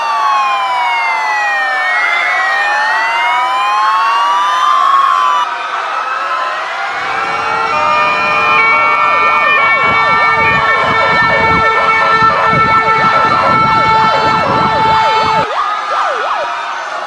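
An ambulance siren wails continuously with sweeping, overlapping tones, loud and close, joined partway through by a second siren pattern and low engine rumble, with no talking.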